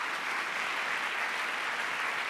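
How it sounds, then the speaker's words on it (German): An audience at a Cradle to Cradle congress applauds in a steady, even wash of clapping heard at moderate distance, continuous across the short span with no speech over it. "danke Ihnen allen für den Applaus"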